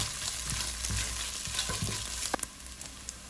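Ginger frying in a pan for an egg biryani, a steady close sizzle with scattered scraping stir strokes that sharpen into a few distinct clinks near the end.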